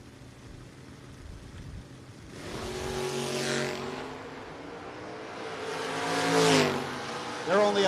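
A Chevrolet Vega and a Blazer launch side by side at a No-Box 660 drag racing shootout, their engines roaring loudly and rising in pitch through two surging pulls, with an announcer's voice running over the noise.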